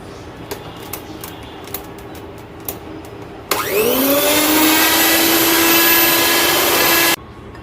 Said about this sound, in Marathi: ब्लेंडरनं ब्लेंड करून घ्या सर्व.